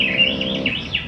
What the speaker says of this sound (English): Why am I so concerned about a bluebird?